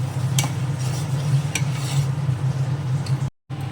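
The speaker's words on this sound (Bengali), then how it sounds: "ডালটা কিন্তু মাঝে মাঝে আপনারা একবার করে নেড়ে দেবেন।" Rice and mung dal fry in a pan while a utensil stirs them, giving a steady sizzle with a few scraping strokes and a brief dropout near the end; no talking.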